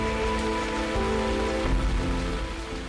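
First monsoon rain falls in Mumbai as a steady, dense hiss of drops on surfaces, close and continuous, with a faint tonal hum running underneath and no speech.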